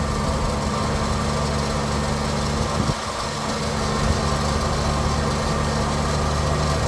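A warm Triumph GT6 engine idles steadily and close with the choke off, a buzzy even rumble that briefly dips before settling back.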